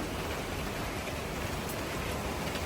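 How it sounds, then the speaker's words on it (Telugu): Heavy rain pours steadily outside a family home, a dense, continuous hiss and patter at an even level throughout, with no voices. "సో బయట చూస్తే ఫుల్ వర్షం, అసలు మామూలుగా పడట్లేదు."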